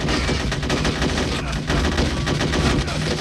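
Loud, continuous automatic gunfire in the stealth shooter Hitman: Codename 47, a rapid rattling stream of shots throughout with a faint voice underneath.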